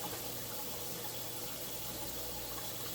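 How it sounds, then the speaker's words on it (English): Running tap water pours steadily into a kitchen sink during hand washing, a constant faint hiss with no breaks or talk. "Gotta wash my hands."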